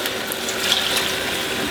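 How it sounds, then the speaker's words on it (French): Water runs and splashes steadily while meat is rinsed during empanada cooking, a close, continuous hiss with a few faint clinks and no talk. "On rince."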